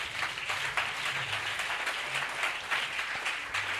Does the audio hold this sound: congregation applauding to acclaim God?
yes